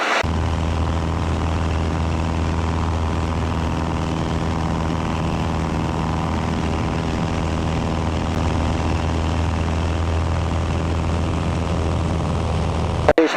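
Light single-engine propeller aircraft, the Legend MOAC, droning at full throttle in flight, a loud, steady, even engine and propeller hum that holds unchanged throughout from inside the cabin, without talk.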